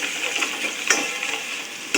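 Onions sizzle in a pan with salt and turmeric, a continuous bright hiss steady throughout with a few small crackles and one louder pop near the middle, close and alone.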